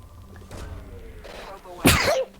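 Following a few moments of soft, murmured talk, a person lets out one sharp, forceful sneeze near the end, close and much louder than the speech before it.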